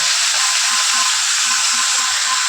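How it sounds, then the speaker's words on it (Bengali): Vegetable curry sautéing in a pan for a khichuri meal: a steady, loud broadband sizzle fills the clip alone, with faint low scraping knocks of stirring at a regular pace underneath. "তো চলো আগে তরকারিটাকে ভালোভাবে করে কষিয়ে নিয়ে আগে।"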